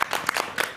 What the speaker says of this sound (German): Auch vielleicht nochmal einen Applaus an dich als Visualizer